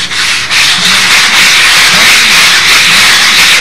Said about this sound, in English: Next thing I want to do is with a nice, a large sanding block.